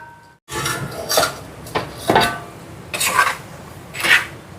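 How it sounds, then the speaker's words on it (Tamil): A metal lid set on a cooking pot while making dried-fish curry: a few sharp metallic clanks and scraping clatters in irregular bursts, close and fairly loud, with no talking. "இந்த மாதிரி மூடி விடுவோம்."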